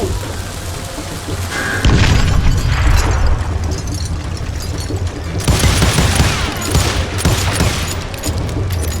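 Gunfire in the Call of Juarez: Gunslinger western shooter, loud bursts of shots and blasts in two heavy waves with a dense, rumbling fusillade between them and no voices.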